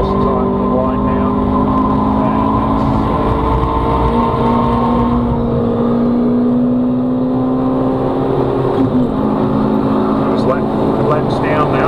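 Race car engines drone steadily in a racing video game as a car crosses the finish line, sustained tonal whine with shifting pitch, loud and continuous under a commentator talking throughout.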